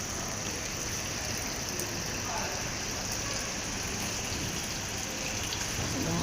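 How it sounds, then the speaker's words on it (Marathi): Heavy monsoon rain falls on an open parking ground, a dense, steady hiss of downpour that stays even and loud throughout without a break. "इथं पण मस्त पाऊस पडतोय बघा"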